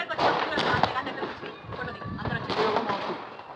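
Diwali firecrackers going off during a home celebration: a rapid scatter of crackling pops and thumping bursts, fairly loud and close, with voices talking over the noise.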